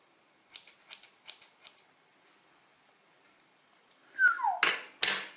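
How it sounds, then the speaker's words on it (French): Scissors snip through hair during a home self-haircut, thinning the ends rather than cutting straight: a quick, even run of six light, close snips, a pause, then a few louder, sharper cuts and rustles. "Je vais pas couper net, je vais plutôt effilocher."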